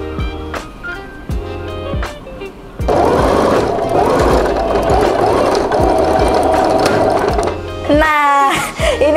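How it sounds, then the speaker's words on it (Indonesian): A sewing machine stitching cotton culottes, with short bursts of rapid mechanical clatter at first, then a long steady run of fast stitching, close and loud. "Lalu bisa dijahit."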